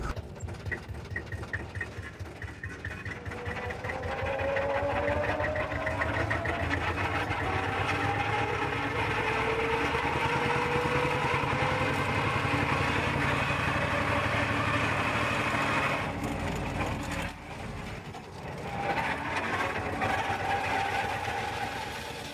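An East German tractor engine runs with a steady mechanical clatter that builds in loudness and then holds, with a brief dip near the end.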